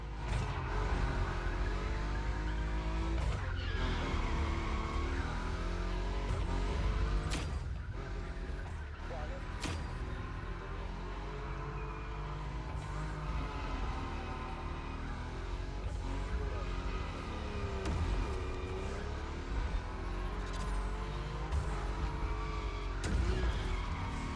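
A Nismo car drifts at high speed in the racing video game The Crew Motorfest, with a steady engine roar and squealing tires under a continuous dense game mix, while someone talks over it.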